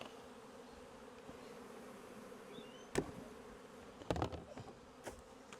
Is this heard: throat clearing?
no